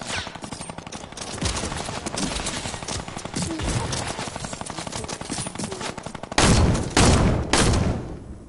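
Rapid automatic gunfire from a video game rattles continuously in dense, even bursts, growing louder and heavier with a couple of big booming volleys near the end.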